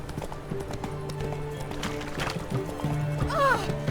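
Roach, the horse in The Witcher 3, clip-clops steadily at a gallop with rhythmic hoofbeats, game music and ambience underneath, and a short whinny near the end.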